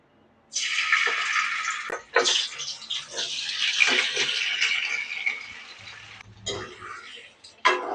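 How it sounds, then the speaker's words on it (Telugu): Cut potatoes fry in hot oil over a low flame for aloo dum biryani, giving a loud, steady broadband sizzle that runs for several seconds, breaks off, then returns briefly. "లో ఫ్లేమ్లోనే ఆలుని ఫ్రై చేసుకున్నాం"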